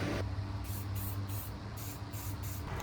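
Rust-Oleum spray paint hisses from an aerosol can onto MGB car parts in a run of short, repeated bursts, fairly faint, over a steady low hum.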